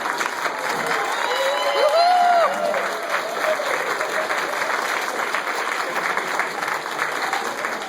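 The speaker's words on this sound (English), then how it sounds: "Thank you, everyone, for that wonderful round of applause." An audience at a noon Optimist Club luncheon claps in a sustained, even round of applause that fills the room, with a few faint voices mixed in.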